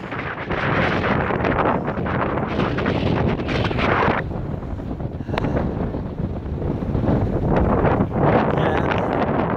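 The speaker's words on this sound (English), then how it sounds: "And really, really windy and cold." Strong, cold wind at the Jackass Mountain cliffs buffets the microphone in loud, roaring gusts, easing briefly midway before surging again.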